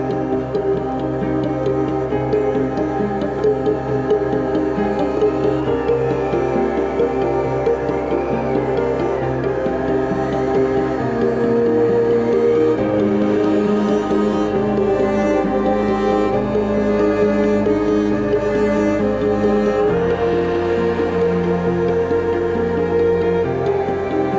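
Sustained bowed cello lines over piano chords, a continuous, fairly loud passage of slow, dark-toned music with no talking.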